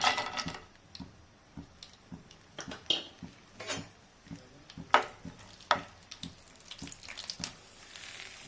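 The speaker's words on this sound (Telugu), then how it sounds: "ఆయిల్ వేడెక్కింది, మనం కాజు ఫ్రై చేసుకుందాం." Cashews frying in about six spoons of hot oil, a soft sizzle broken by irregular clinks and scrapes of stirring in the pan, close and without talk.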